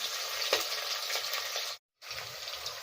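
Onions fry in a pan for jackfruit biryani, giving off a steady, close sizzle with a brief cut of silence midway through.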